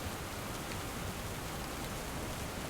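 Continuous broadband rain noise in the RPG Stoneshard, an unbroken hiss of falling water at moderate level with no other sounds.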